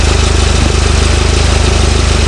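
A steady engine idles with an even, rapid low thump, running smoothly and close by without revving.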